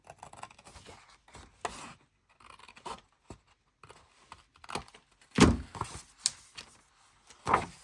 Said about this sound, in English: just come along here and hope to cut a straight line